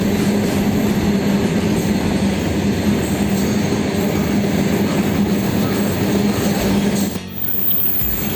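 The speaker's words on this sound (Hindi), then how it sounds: "यहाँ पे ट्रेन आ रही है काफ़ी तेज़ी से।" A long train runs fast past a spot near Bakhtiyarpur station on its way toward Patna: a loud, sustained rolling roar with rattling wagons and wheel clatter, close by, ending with a brief dip and a sharp squeal.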